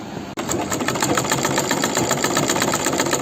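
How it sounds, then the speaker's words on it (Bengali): A sewing machine stitches with a steady rapid mechanical chatter at close range, briefly cutting out near the start and then running continuously. "এই দেখুন এখন তিনটা সেলাই করলাম"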